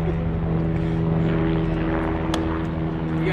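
An aircraft drones loudly overhead with a steady, rumbling rotor-and-engine hum that holds constant throughout, with no voices heard.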